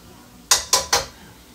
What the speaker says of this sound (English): I'm going to stir these in.